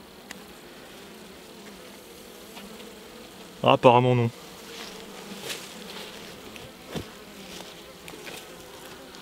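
Honeybees buzz softly and steadily throughout at an apiary, a low droning hum, with a woman's brief spoken remark partway through.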